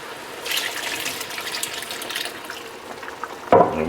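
Pork broth is poured little by little into a pot of pig tails cooking in pork fat on high heat, a soft steady trickle and gush of liquid heard up close, ending with a sharper splash and sizzle.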